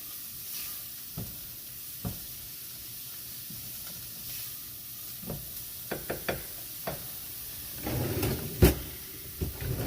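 Frozen peas cooking in a pan on low heat make a soft, steady sizzle, broken by scattered clicks and scrapes and a louder burst of stirring and clatter near the end.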